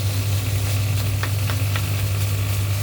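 Grated carrots fry in a pan for gajar halwa, a steady low hum with soft sizzle and occasional stirring scrapes, close and continuous.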